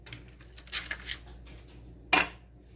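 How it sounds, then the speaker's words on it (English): Ice cubes clink and rattle against a glass in a few quick bursts, ending with one sharp, bright clatter. "I'm gonna put some ice in my glass"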